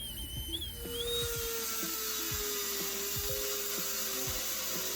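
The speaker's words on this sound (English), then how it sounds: "I then use a sanding drum in the Dremel to smooth it out the rest of the way." A Dremel rotary tool with a carbide bit cuts an opening in metal on a Datsun 280Z, giving a steady high whine with a slowly drifting tone and scraping grinding texture throughout, close up and with no talk.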